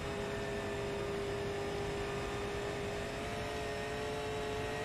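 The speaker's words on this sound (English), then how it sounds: "She had the foot into the throttle coming off turn 2." Super late model stock car engine at full throttle in iRacing at Dover International Speedway, a steady, unbroken high-pitched drone with a constant tone and no breaks, heard close as if onboard.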